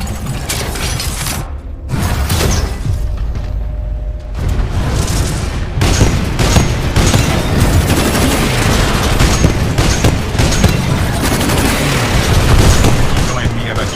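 Guided missiles fired by a Titan in Titanfall 2 explode in a dense, loud barrage of booms and mechanical clatter, continuous under intermittent talk.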